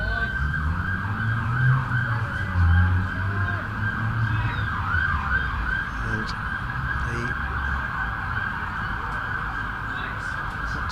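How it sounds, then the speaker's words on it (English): An ambulance siren wails steadily along a road beside a county cricket ground, a continuous rising-and-falling tone that stays moderately close, with a low traffic rumble beneath and a commentator talking over it. "again the sirens of an ambulance going down the Sanford Road."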